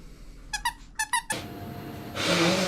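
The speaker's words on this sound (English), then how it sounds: "Do you want a toy? Do you want this one? Oh, look at that. It squeaks, I think." Squeaky dog toy squeezed near a groomer's dog, giving two quick pairs of high rubbery squeaks, then a rustle and a burst of broadband noise.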